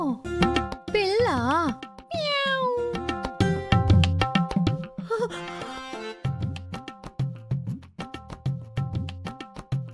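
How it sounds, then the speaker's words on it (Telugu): A stray cat meows repeatedly indoors, close and loud, its rising and falling cries coming in a quick uneven series among other brief household sounds. "దొంగ పిల్లి తలుపులన్నీ వేసినా ఎలా దూరిందో ఏమో"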